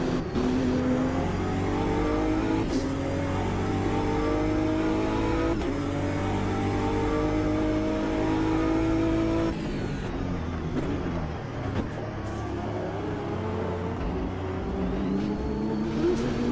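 GT3 race car engines, including a Nissan GT-R 'Godzilla', droning loudly and steadily, with revs rising and falling through gear changes and another car nearby, no talking.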